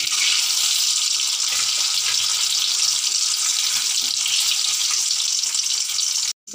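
Eggs fry in hot oil in a pan for an egg potato masala, giving a steady, loud, close hiss of sizzling with no speech, cutting off abruptly near the end.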